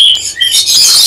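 Lovebirds at a crowded lovebird farm give loud, close, high-pitched chirps and shrill tweets that overlap continuously in a brief burst.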